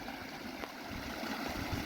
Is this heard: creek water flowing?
yes